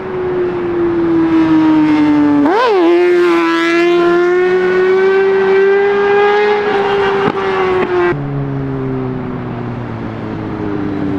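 A dirt bike engine revs hard through a wheelie, its loud, close whine rising sharply, dipping, then holding a steady high pitch before dropping back near the end, with no talk over it.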